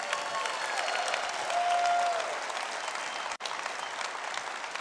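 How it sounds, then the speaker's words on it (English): Sustained audience applause in honour of a late motivational speaker, a dense, even wash of clapping with a brief dropout partway through before it resumes. "Why don't we applaud him so he can hear us?"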